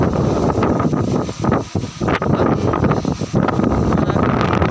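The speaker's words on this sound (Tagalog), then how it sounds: "lakas ng hangin" Strong coastal wind buffets the microphone in loud, continuous gusts with a low rumbling roar, briefly easing a couple of times before surging again.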